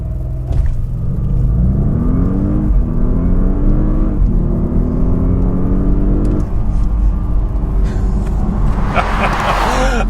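A 2013 Audi S8 accelerates hard from 0 to 60 mph, heard from inside the car as a loud, steady engine roar that climbs in pitch and drops back at each gear shift.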